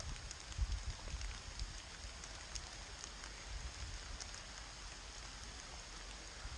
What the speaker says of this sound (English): It's starting to rain, and I don't know if you can hear the rain coming through the leaves and the trees.